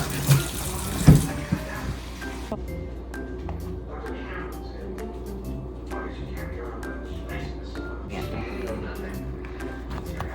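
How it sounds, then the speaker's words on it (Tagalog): Hands being washed under a running kitchen tap, a steady broadband rush of water with a louder splash at the start, while people talk quietly nearby. "Maghugas muna tayo ng ating kamay bago tayo maghawak."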